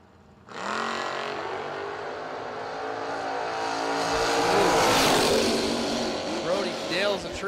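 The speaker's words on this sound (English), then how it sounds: "90 model Mustang." A 1990 Mustang races at a drag strip, its engine bursting in loud and building to a roaring, rising wail, with a commentator's voice running over the top.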